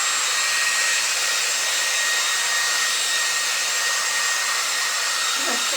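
Steady, loud hair dryer blowing close by as it dries thick layered paint on an abstract canvas, a continuous even whoosh with no talk over it.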